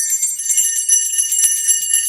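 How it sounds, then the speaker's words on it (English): A red kettle hand bell rings outside a Walmart during the Christmas season, a bright, shimmering metallic tone struck again and again in a quick, uneven jingle. "We're out here ringing the bell at Walmart"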